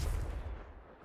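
A Confringo blasting spell explodes in Hogwarts Legacy, a single short, heavy, booming blast that decays quickly and is heard alone.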